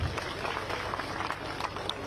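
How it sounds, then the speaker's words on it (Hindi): A crowd at the opening of the Sharadotsav fair in Nagnath Pokhari, Chamoli, Uttarakhand claps with faint, distant, continuous applause, with a murmur of voices underneath. "आपकी तालियां तो बनती है जोरदार"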